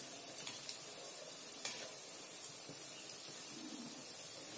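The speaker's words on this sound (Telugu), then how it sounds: "మంచి రంగు వచ్చే వరకు వేయించుకోవాలండి" Vadas deep-frying in hot oil, a steady close sizzling hiss with faint scattered pops throughout, no talk.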